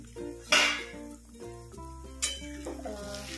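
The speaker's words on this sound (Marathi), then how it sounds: "चला तर आता आपण झाकण काढूया." Metal lid lifted off a cooking pot of Shrawani French beans (ghevda) sabzi: two sharp metallic clinks with brief hissing bursts over a soft pan sizzle, close and fairly loud, no talk.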